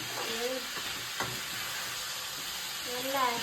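Mixed vegetables including tomato, onion, potato and peas frying in a pan, with a steady sizzle under scraping stirs and faint background voices.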